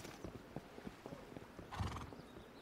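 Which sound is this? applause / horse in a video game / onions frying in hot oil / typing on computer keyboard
horse in a video game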